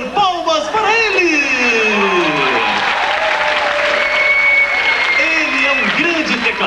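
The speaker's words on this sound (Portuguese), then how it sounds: "Palmas para ele!" A studio audience on a 1996 Brazilian TV variety show applauds a keyboard player, loud continuous clapping mixed with voices and sliding tones running underneath.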